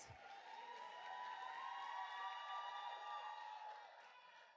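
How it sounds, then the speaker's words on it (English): An audience at a STEAM spring concert gives the senior class a round of applause, a steady, fairly distant wash of clapping and a few cheers that swells, holds, then tapers off over a few seconds. "one more round of applause for our seniors"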